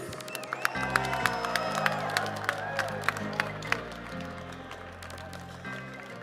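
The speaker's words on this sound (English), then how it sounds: "One more round of applause for our Mario Kart teams." Crowd at an esports grand finals celebration applauding and cheering for Mario Kart teams, steady clapping with a few sharp spikes over background music throughout.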